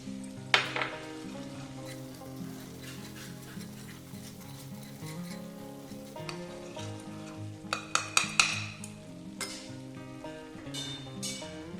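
Homemade cream from milk skin is added to a paneer curry simmering in a pan, giving a soft sizzle with scattered clinks of a spoon against the pan, including a quick cluster of taps, no talk.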